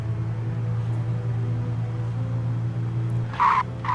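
A car in Alan Wake Remastered drives with a steady low engine drone, then a couple of short tire skids screech over it near the end, with no one talking.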